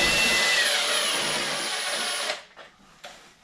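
A power drill backs screws out of a Gyprock wall with a steady, close, high whine that cuts off abruptly after about two seconds, leaving a few faint clicks and handling sounds.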